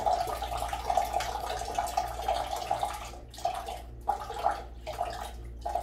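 Water splashing as shoes are washed, a close and continuous rush and slosh with a humming undertone, breaking into several short bursts of splashing toward the end.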